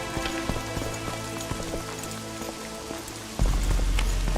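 A heavy rain downpour in the video game The Witcher 2: Assassins of Kings, dense and constant pattering up close, with a deeper rumble swelling in near the end.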